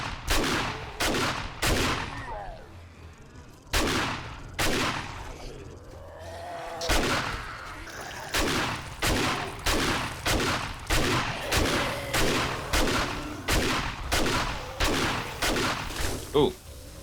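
Repeated shotgun blasts in the survival video game 7 Days To Die during a horde night at a high school, loud sharp reports about every half second to second, with a brief lull in the middle.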